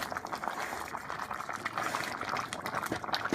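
Jordzen soup boiling in a pot: a steady, quiet bubbling and gurgling that runs on without a break.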